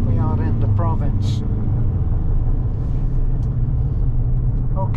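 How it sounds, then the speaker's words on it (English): Morning road traffic in a provincial town, with cars passing in a continuous low engine rumble and a brief horn-like tone early on, while people talk over it. "I'm just showing the traffic."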